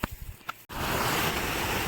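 A large village waterfall roars as a steady, loud rush of falling water, preceded by a few brief knocks and rustles before the continuous torrent takes over.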